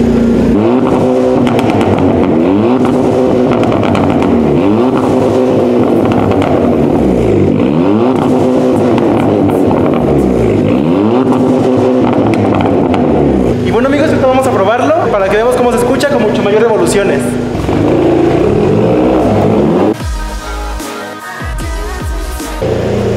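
A car with a pops-and-bangs tuned engine map revving repeatedly in rising and falling sweeps, loud and close, then breaking into crackling, popping bursts toward the end, with someone talking over it.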